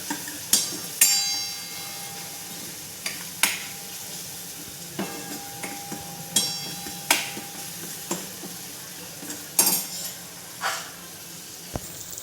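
A spoon stirring turmeric and coriander-cumin powder into paneer gravy in a pan, with scattered clinks and scrapes against the metal over a soft sizzle, fairly quiet and without speech.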